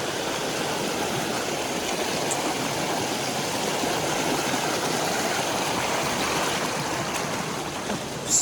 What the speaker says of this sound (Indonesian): Baru awal aja udah ketemu sungai nih